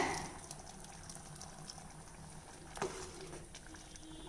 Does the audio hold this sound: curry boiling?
yes